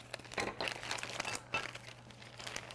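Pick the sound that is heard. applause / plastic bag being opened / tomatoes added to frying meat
plastic bag being opened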